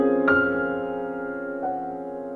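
Two piano notes struck a second apart with the sustain pedal held down, ringing and blending together as they sustain rather than being cut short, played softly with no voices.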